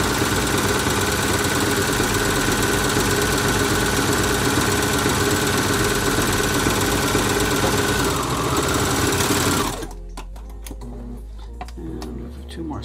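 A sewing machine stitches a drawstring bag, a loud, steady rapid whirring hum that runs continuously for about ten seconds, then stops abruptly, leaving faint handling clicks.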